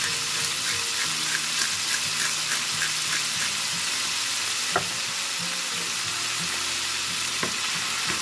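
Squid pieces and heads, seasoned with salt and black pepper, cook in oil in a pan with a steady close sizzle and bubbling that runs throughout, plus a few soft clinks of utensils.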